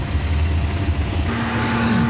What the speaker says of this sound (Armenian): մեր ուղղաթիռը վայրեջ կատարեց նոյեմբերյան շրջկենտրոնում